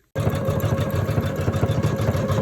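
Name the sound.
embroidery machine stitching an appliqué in the hoop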